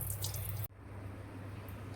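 Tap water runs steadily into a sink while chicken is washed, with a sharp handling knock partway through, then a softer, continuous trickle, near and fairly quiet.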